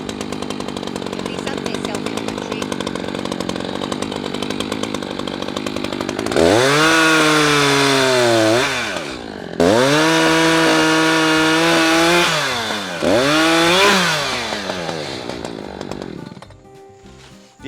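A chainsaw cutting into a leaning tree being felled: the saw idles, then revs loudly into three bursts of heavy cutting separated by brief drops, close and continuous, winding down at the end.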